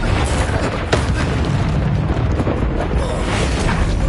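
A loud, sustained fiery blast in Hogwarts Legacy, from the Confringo spell, a dense rumbling roar that fills the whole moment at close range with no speech.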